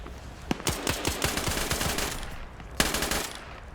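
Rapid automatic machine gun fire from the video game Arma 3, a run of sharp repeated shots over about two seconds, then a lull and another loud burst near the end.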